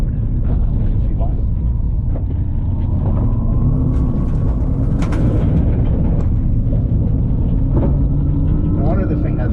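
GMC Hummer EV cruising at 65 miles an hour off-road over rocks, with a steady loud rumble of road and tire noise filling the cabin while a person talks over it.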